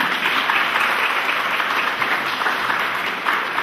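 Dense, sustained applause from a banquet crowd at a high school centennial alumni gathering, loud and even with no talk over it.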